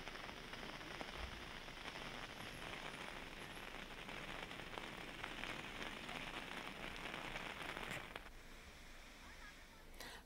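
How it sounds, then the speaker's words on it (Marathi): Heavy monsoon rain falls in Sindhudurg, a dense, continuous hiss of drops striking surfaces that stays steady and close, then eases slightly near the end. "सिंधुदुर्गात आज पुन्हा एकदा दिवसभर मुसळधार पाऊस कोसळला."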